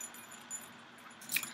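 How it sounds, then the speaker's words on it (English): House keys jangle briefly as they are pulled from a handbag, a soft close metallic clink near the end over quiet room hiss. "Oh, I'd have my keys. Well, my house key."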